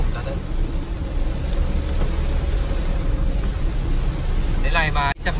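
Heavy rain pours on a car driving through a downpour in Japan, with fog lights on and poor visibility, making a steady, dense roar throughout; a voice briefly speaks near the end.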